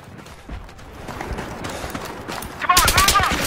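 Video game gunfire, bursts of shots crackling through a busy battle mix, growing louder and sharper near the end, with a voice speaking over it.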